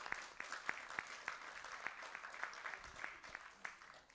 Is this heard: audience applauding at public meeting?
yes